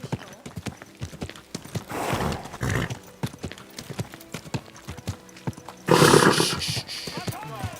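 In the medieval role-playing game Kingdom Come: Deliverance II, a horse's hooves clop in a quick, steady rhythm close by, broken by bursts of whinnying, while someone talks over it.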